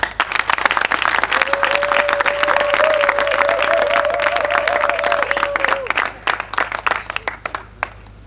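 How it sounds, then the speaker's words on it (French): A ceremony crowd claps in sustained, dense applause that thins into scattered claps toward the end, with a held tone rising over the clapping for several seconds in the middle. "Applaudissez encore."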